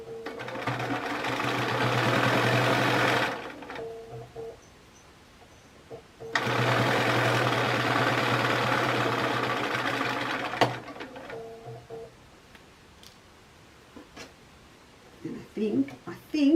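A sewing machine stitches fabric in two long steady bursts of several seconds each, working either side of side seams, with quiet pauses and faint handling between runs.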